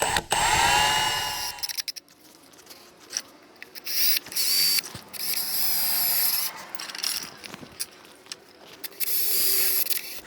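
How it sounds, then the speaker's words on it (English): A power drill drives self-tapping screws into a metal funnel for a propane forge build, whining in several bursts of a second or two, separated by quieter pauses and faint rubbing. "I'm going to go ahead and put the screws in for the self-tapping screws in for the funnel."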